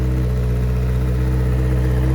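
A 2019 Kawasaki Z900RS Cafe motorcycle with a cold engine idles high, giving a loud, steady, close-up engine drone that holds unchanged throughout with no voices.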